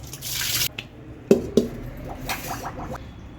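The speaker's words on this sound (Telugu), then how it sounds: "వంకాయలు కడిగి వాటర్ పడవసుకోవాలి" Brinjals are washed in water and then drained. A brief splashing rush at the start gives way to close drips, wet knocks and light clatter against the vessel.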